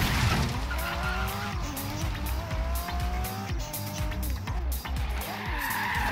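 A Ferrari drifts in the racing game Forza Horizon 3, its engine roaring steadily while the tires squeal through the slide, loud and close for the whole stretch.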